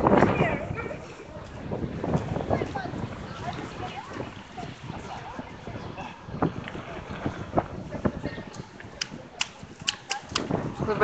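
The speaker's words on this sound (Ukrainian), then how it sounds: "Вибачайте за вітер" Wind buffets an outdoor microphone on a city avenue during a street painting project, producing rumbling gusts and crackling thumps over the whole stretch, with a person talking underneath.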